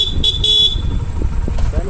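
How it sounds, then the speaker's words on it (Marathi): A vehicle horn on a road gives a few short honks in the first part, over engine rumble and nearby people talking. "ब्रेक मार, हॉर्न मार."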